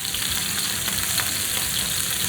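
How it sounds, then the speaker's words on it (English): Beef pieces sizzle steadily in a hot pan, a dense continuous frying hiss with faint crackles and the occasional stir, close and fairly loud throughout. "you can start adding a little bit of that beef to the pan"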